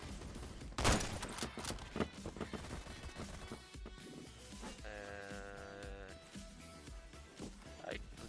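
Video game gunshots amid a busy, loud game soundtrack, with a sharp shot standing out near the start followed by scattered lighter impacts and a tonal effect, everything dense and layered.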